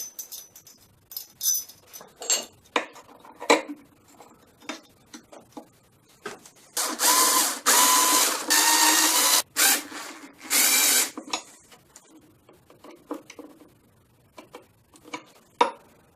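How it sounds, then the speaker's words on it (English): A power screwdriver fitted with an extension drives a screw into a wall plug in a tiled wall, with two sustained bursts of motor whirring amid scattered clicks and taps before and after. "Did you notice I used an extension on the screwdriver?"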